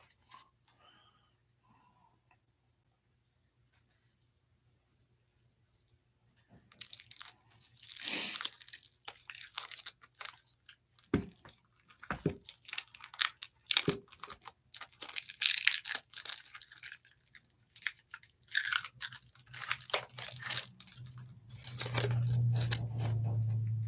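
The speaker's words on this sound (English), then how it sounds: "So let me figure out the best way to get this plastic off and we will get started." Cellophane wrap is peeled and torn off a box of 1996 Leaf football and 2023 Topps Update cards. After a quiet start come close, intermittent crinkling and tearing bursts that grow busier toward the end.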